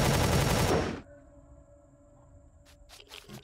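A loud burst of automatic gunfire from the Empyrion space-survival video game, a dense rapid volley lasting about a second before cutting off, followed by faint electronic tones and a few softer clicks.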